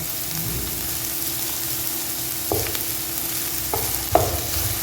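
Chicken fries in oil for a restaurant-style kadai chicken, giving a steady low sizzle broken by a few sharp utensil knocks against the pan, with no one speaking.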